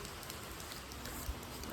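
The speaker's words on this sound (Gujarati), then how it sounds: "જો વરસાદ કેટલો આવે છે" Steady rain patters densely on a surface all around, an even hiss without pauses.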